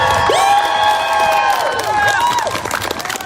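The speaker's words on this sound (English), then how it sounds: "Please give yourself a round of applause." A crowd at a rally or demonstration cheering, whooping and applauding, loud and sustained, with shouts rising and falling over continuous clapping.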